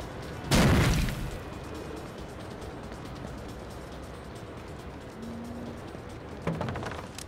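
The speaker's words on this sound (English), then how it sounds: "Oh, that's a frag." A frag grenade goes off in Rainbow Six Vegas 2 with a single heavy, close boom and a rumbling tail, followed by quieter ambience and a smaller thud near the end.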